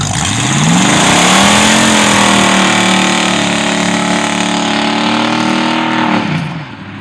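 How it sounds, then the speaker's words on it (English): A 1978 Luv truck with a 305 Chevy engine and 4-speed automatic runs loud and close, its engine climbing in pitch and holding a steady high rev before dropping off at the end. "That is a 1978 Love Truck 305 Chevy engine, Blazer rear end, 4-speed transmission automatic."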